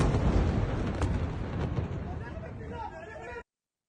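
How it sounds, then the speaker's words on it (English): A large ballistic missile explosion in Tel Aviv roars as a loud, sustained rumbling blast with a sharp crack early on, continuing for over three seconds before cutting off abruptly. "That's a big explosion."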